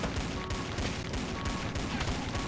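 Gunfire in the zombie game Dead Ahead: Zombie Warfare, a steady rapid stream of shots that stays loud and dense throughout.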